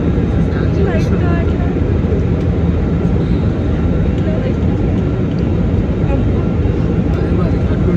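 Steady broadband roar of an airliner cabin in flight during turbulence on a Hyderabad to Delhi trip, a constant engine and air rush filling the whole clip with faint voices murmuring beneath it.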